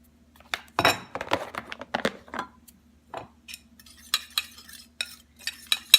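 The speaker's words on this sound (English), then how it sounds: "Go ahead and whisk those together." A sweet potato and egg mixture gets whisked in a bowl: quick clinking strokes of metal against the dish come in short irregular bursts, with brief pauses between them and no talking.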